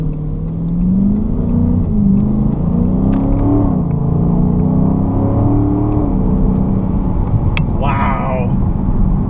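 A 2016 Dodge Charger R/T Scat Pack 392 V8 accelerates at Texas Motor Speedway, its engine note rising and falling steadily through the whole stretch, loud and close, with a brief squeak near the end.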